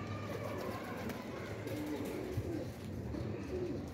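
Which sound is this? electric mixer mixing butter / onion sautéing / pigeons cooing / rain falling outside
pigeons cooing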